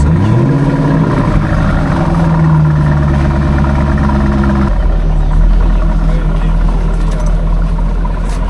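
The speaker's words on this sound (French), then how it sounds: "AMG V8 compressor en automatique avec la corvette qui roule derrière" Supercharged V8 of a Mercedes CL55 AMG with automatic gearbox runs loud and close, a steady low engine rumble rising and settling, with a Corvette driving just behind; the engine fills the whole stretch with a slight change in tone midway.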